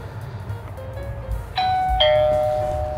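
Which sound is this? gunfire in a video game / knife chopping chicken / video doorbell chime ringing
video doorbell chime ringing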